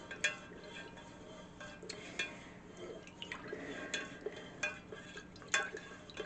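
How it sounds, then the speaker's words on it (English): A utensil stirs melted eucalyptus candle wax in a container, with soft scraping and scattered light clinks against the sides, close and unhurried, with no voices. "So basically we're just stirring for 2 minutes."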